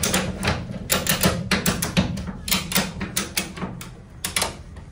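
Ratchet strap being clicked tight on a car trailer securing a classic car, giving a steady series of sharp, close mechanical clicks with uneven rhythm.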